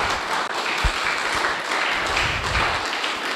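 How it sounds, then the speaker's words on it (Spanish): A church congregation claps loudly and steadily in praise, a dense, continuous roar of many hands filling the room, with a few deeper thumps underneath. "Dele fuertes palmas al Señor."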